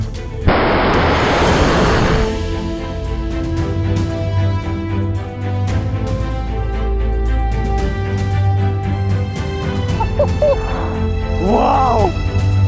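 A Smerch-2 homemade rocket bomb launcher fires with a loud roaring burst, then a low rumbling blast echoes on outdoors, with a faint voice near the end.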